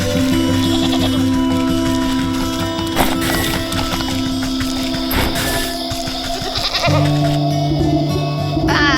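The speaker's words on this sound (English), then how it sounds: "Here's the billy goat." Goat bleating in the video game Wytchwood, heard over steady game music, with a couple of short sharp calls standing out amid the looping score.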